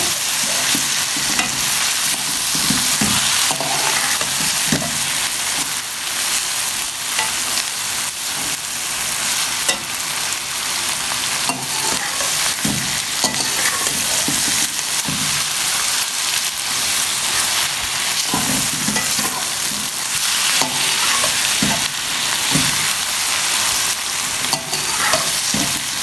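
Sliced onions with ground spices frying in an oily pan for masala okra, loud continuous sizzling and crackling with repeated scraping stirs of a spatula throughout.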